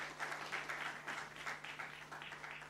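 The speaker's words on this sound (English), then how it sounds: "Let's welcome him with a round of applause." Faint audience applause welcoming a speaker at a stock exchange opening bell ceremony, a soft, steady patter of clapping from a distant crowd with a low electrical hum underneath.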